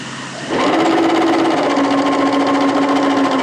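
A sewing machine starts abruptly and runs in a steady, fast, continuous whir while stitching a fabric bodice facing, loud and close, with no talking.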